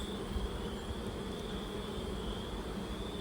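Honeybees buzz steadily from an opened hive while frames are handled during queen rearing, a dense, continuous drone with no pauses and no voices.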